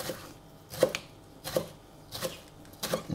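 A knife chops a leek finely on a cutting board in four crisp, evenly spaced strokes, close and clear with no talk.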